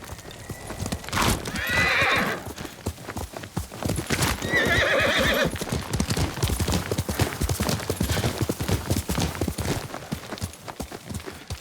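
Horse hooves clip-clop steadily and loudly while a horse neighs and whinnies twice, in the Ghost of Tsushima video game; no talk over it.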